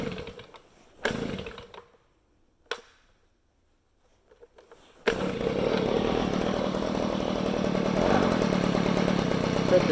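A Stihl BG55C leaf blower's small two-stroke engine on full choke sputters through a couple of short failed pulls and bursts, then catches about halfway and keeps running at a loud, buzzy, steady idle.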